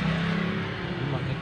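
A car runs at low speed while parking in the basement car park of Istiqlal Mosque in Jakarta. Its close, steady engine hum holds a constant low drone, and people talk over it.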